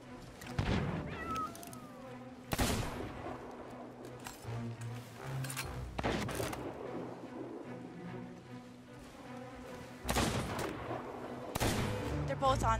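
Cannon fire from a brig ship in a video game: several heavy booms land at irregular intervals, each a loud broadband blast, over a busy bed of in-game ambience.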